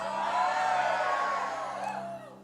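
A church congregation shouts glory together in one loud, sustained burst of crowd voices that fades out near the end.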